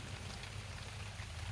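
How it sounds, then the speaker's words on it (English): Rain falls steadily on a forest trail, an unbroken low hiss and patter of drops at quiet level, no speech over it. "it's nice to be out here though, even though it's raining."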